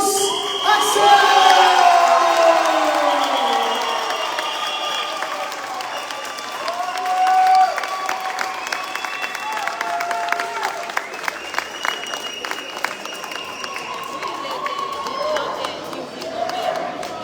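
Audience applause at a junior cycling tour prize ceremony in Martinique swells loudly at the start, then settles into a lighter, scattered patter as someone speaks over a public address.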